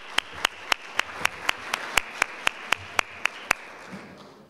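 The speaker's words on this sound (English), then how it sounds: "How about a round of applause for the staff in the kitchen?" Rhythmic, evenly spaced loud claps, about fourteen sharp beats in unison, from an audience at a Meals on Wheels anniversary celebration thanking the kitchen staff, trailing into quiet background murmur.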